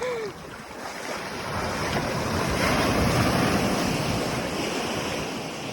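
Surf rolls steadily onto a deserted beach, a continuous wash of ocean waves mixed with wind rumble on the microphone, swelling slightly midway, with no voices.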